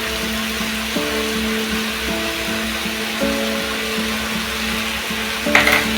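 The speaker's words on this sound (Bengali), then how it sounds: "দিয়ে ভালো করে একটু 3 থেকে 4 মিনিট এটাকে একটু কষে নেব মশলাটা দিয়ে" Cumin, ginger paste and ground coriander masala frying in a pan, a loud continuous sizzle with a steady mechanical hum running underneath and a brief clatter near the end.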